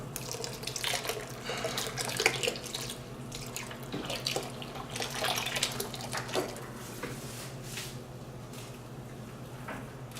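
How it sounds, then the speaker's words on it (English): A jug of milk pours into a blood sausage mixture in a steady splashing, trickling stream that runs for about ten seconds at moderate, close volume. "And add another jug of milk."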